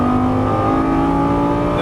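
A Lamborghini Gallardo LP550-2 on track accelerates under throttle, its engine a loud, sustained droning roar with steady harmonic tones, close and alone.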